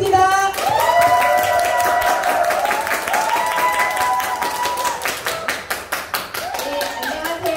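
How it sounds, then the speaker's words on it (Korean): Audience applause at a lecture event welcoming a speaker, sharp hand claps sounding under a sustained musical tone, with the clapping thinning into separate claps near the end. "여러분 큰 박수 부탁드리겠습니다."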